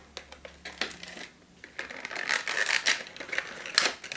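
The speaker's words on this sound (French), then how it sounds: "On va juste couper ça pour l'ouvrir." A blade slices through the tape and cardboard of a delivered shipping box, a run of close, dry scratching and tearing strokes that grows busier and louder toward the end, with no talking.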